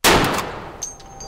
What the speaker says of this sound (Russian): Пальну теперь вот сюда.